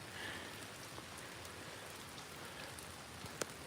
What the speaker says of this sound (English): But I'm only staying out here so long in the rain today.